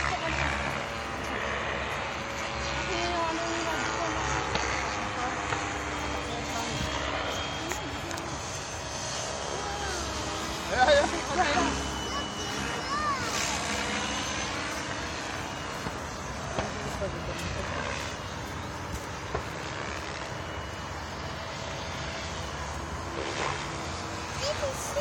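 An RC F18 fighter model jet on a 3S 2200mAh battery flies overhead at an airfield, a steady whining jet roar that swells and fades as it passes, with people talking nearby throughout.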